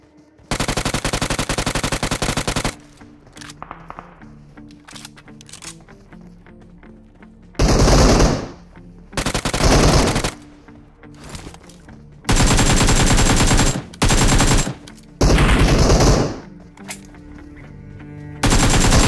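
Automatic gunfire from the shooter game PUBG Mobile, loud sustained bursts of rapid shots repeating several times, separated by short gaps of quieter game ambience.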